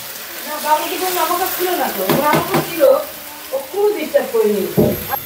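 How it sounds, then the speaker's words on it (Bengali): Raw rice grains dry-fry in a pan, a close crackling sizzle with stirring scrapes, heard beneath someone talking over most of the stretch. "চাল ভাজা হয়ে আসছে, এখন পানি দিয়ে দেবো"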